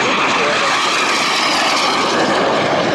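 An aircraft making a low pass at the Hollister airshow, a loud, broad engine roar that stays strong and steady throughout as it goes by, with a commentator speaking over it.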